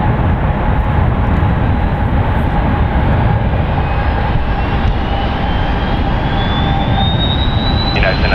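Jet airliner engines roaring at San Francisco International Airport, a loud, steady, unbroken rumble with a rising whine that holds throughout and sounds close by.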